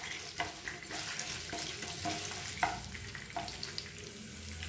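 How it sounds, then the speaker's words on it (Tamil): Urad dal browns in a pan over a low flame for an idli-dosa chutney, making a faint, steady sizzle marked by light, irregular stirring clicks. "உளுந்து வந்து லேசாக நல்லா ப்ரௌன் கலரில் வதங்கணும்."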